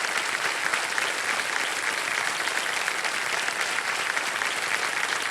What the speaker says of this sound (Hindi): बहुत बहुत एक बार जोरदार तालियां हो जाए कुमार जी के लिए।